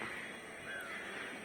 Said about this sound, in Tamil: பறவை எல்லாம் போகுது.